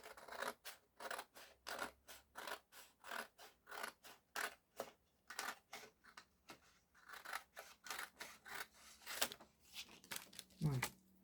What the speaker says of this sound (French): je prends mon ciseau et je vais à ras du truc en métal